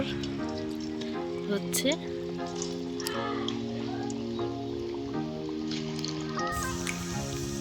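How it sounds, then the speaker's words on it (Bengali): Chicken shahi kabab patties fry in hot oil, a soft, steady sizzle held low beneath a voice talking throughout. "এবার টিকিয়াগুলো ভেজে নেব।"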